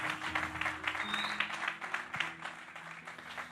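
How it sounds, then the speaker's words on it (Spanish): A church congregation claps, a moderate, uneven patter of hands that rises and falls, with a sustained musical tone underneath. "Dale un aplauso al Señor."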